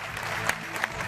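Studio audience applause welcoming a guest onto a New Year's game show set, a steady, dense clatter of clapping with a couple of sharper peaks, close and continuous through the short moment.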